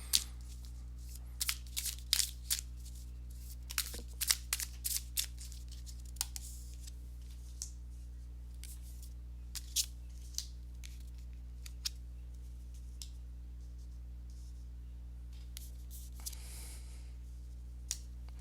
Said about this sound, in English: let me go ahead and give these cards a shuffle